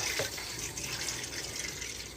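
Tap water runs steadily into a dog's water bowl, a continuous close hiss and splash lasting the whole moment, with no talking over it.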